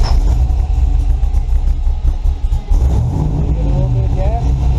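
A car engine running a Holley Terminator X fuel injection system fires up and settles into a loud, steady idle with a few rising revs, while someone talks over it close by.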